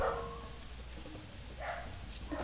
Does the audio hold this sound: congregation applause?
no